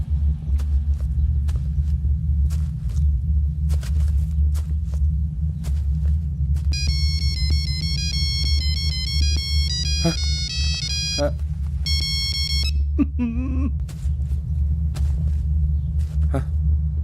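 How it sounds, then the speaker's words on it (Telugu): A mobile phone ringtone plays a bright, tinkling song melody in a short burst over a low rumbling background, with a voice speaking before and after it. "Ring tone sir. Ring tone."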